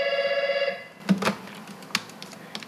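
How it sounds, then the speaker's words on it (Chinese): A telephone at a travel agency rings with a steady pulsing tone for about a second, then cuts off and is followed by handset clatter and faint desk noise. "一早旅行社电话接个不停"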